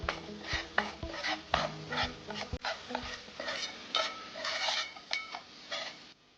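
Spoon stirring and scraping in a pan as besan flour and spices sauté in oil for a traditional Maharashtrian colocasia-leaf curry, with repeated metallic clinks and scrapes over a soft sizzle and no talking.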